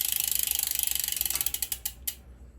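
The freewheel hub on the rear wheel of a newly built Ridley bicycle clicks rapidly and evenly while the wheel coasts. The ratcheting slows toward the end into a few spaced ticks as the wheel winds down. It is close and heard alone.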